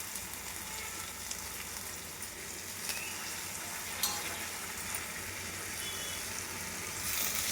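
Onions and green chillies sizzle steadily in hot oil with tempering seeds for a gongura curry, a continuous close frying hiss with faint stirring scrapes and no voices.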